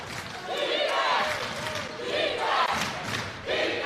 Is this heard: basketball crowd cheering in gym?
yes